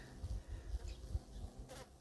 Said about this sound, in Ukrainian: Ось сидять бджілки.